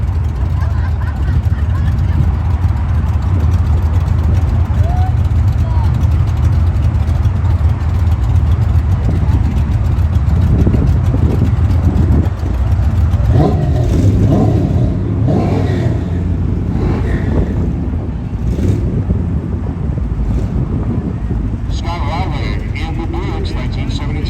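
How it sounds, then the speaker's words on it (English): Midnight drag racing at a car show, with a 1965 Oldsmobile Cutlass and a Buick Skylark: loud, continuous engine roar and revving that swells midway through, heard alongside crowd noise and an announcer's voice. "She's driving the 1965 Oldsmobile Cutlass. He's got the Buick Skylark."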